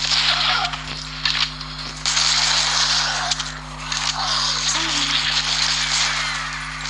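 Sharp gunshots in a zombie shooter video game crack intermittently over a steady electronic hum, with bursts of fire spaced a second or so apart.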